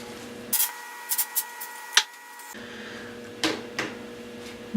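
Several short hissing bursts of hairspray, spaced irregularly over a steady background hum, fairly close and moderately loud, no talking.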